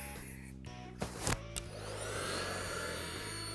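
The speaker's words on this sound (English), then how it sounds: "I'm gonna do one more spritz with the blow dryer just to lock everything down" A blow dryer blows on hair styled into a 1950s wave with pomade, a steady rushing airflow after a few brief knocks and clicks near the start.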